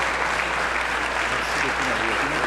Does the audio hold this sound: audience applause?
yes